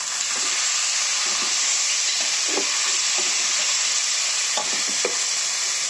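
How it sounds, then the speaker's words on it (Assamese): Spice paste with water added bubbles and fries in oil for a local chicken curry, a loud dense steady hiss and sizzle with occasional scraping stirs against the pan, close and continuous. "এনেকৈ পানী দি এনেকৈ অকণমান ভাজি ভাজি তেলটো পুৰা ফুটিব দিম"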